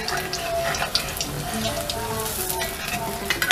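Potato and rava snack frying in hot oil: a close, busy crackling sizzle that runs throughout with small pops and light stirring clicks, and no voices.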